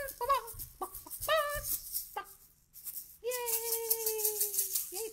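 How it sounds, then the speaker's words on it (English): A chicken clucks in short bursts, then lets out a longer drawn-out squawking call, close by. "chicken, lay a little egg for me"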